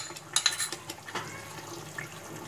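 Cream spooned into simmering chicken tikka gravy in a pan, a few close clinks of a bowl and spoon against the pan followed by soft wet stirring and a faint bubbling simmer.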